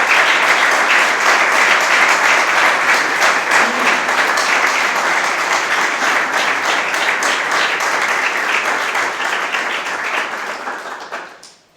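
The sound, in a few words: applause for the speakers coming up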